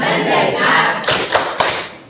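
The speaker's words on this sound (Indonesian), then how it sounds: "Tepuk fokus." A school class does the rhythmic 'tepuk fokus' clapping game, with a few sharp claps in a quick cluster rising over a steady noisy hum of the room.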